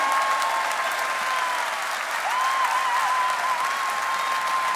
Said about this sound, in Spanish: Un aplauso para Franco